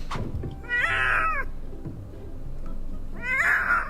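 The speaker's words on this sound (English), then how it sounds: "this poor kitty screamed for help" Cat screaming and meowing, two loud drawn-out wailing yowls close to the microphone, separated by a short pause with a faint knock at the start.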